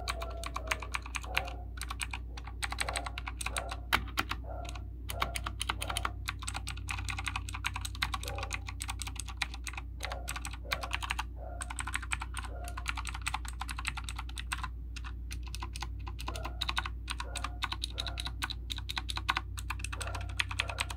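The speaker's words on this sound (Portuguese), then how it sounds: "E agora eu vou fazer um pouquinho do sonzinho da tecla pra vocês aí." Rapid, steady typing on a Bermuda mechanical keyboard with blue switches, sharp clicky keystrokes in a continuous close-up stream with no talking.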